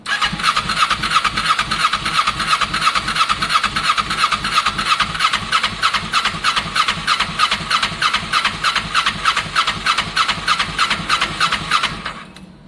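Kawasaki ER6n motorcycle engine starting up during a first-start attempt on a project bike, a loud close rhythmic churning that holds steady for about twelve seconds before cutting off abruptly.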